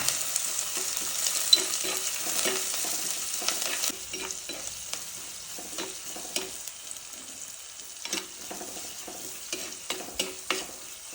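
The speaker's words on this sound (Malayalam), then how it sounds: "എണ്ണ ചൂടാവുമ്പോൾ നമുക്ക് കടുക്, ഉലുവ രണ്ടും ഇടണം." Mustard seeds and fenugreek crackle and sizzle steadily in hot oil, with scattered pops and stirring scrapes; fairly quiet and close, no voices.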